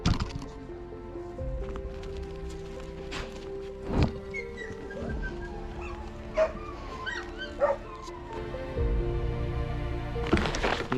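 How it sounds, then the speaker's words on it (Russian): Dogs at an animal shelter in Udachny, Yakutia, let out scattered barks, yips and whimpers over several seconds, some close and sharp, others softer, against a low background hum. "Ну, собачки."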